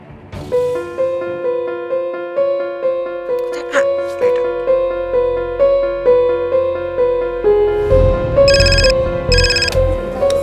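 Repeating electronic ringback tone of an outgoing phone call, regular pulsing rings, loud and close, with a burst of background noise toward the end.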